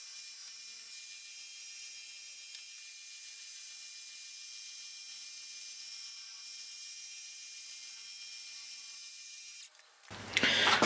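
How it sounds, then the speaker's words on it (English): Holes being drilled in front uprights for a home-built mini Caterham: a steady, continuous high-pitched mechanical whine runs for about ten seconds, then cuts off into a brief rougher burst of noise at the end. "Okay, so I've got the holes drilled in both of them front uprights now."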